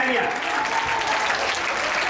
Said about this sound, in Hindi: दो तालियां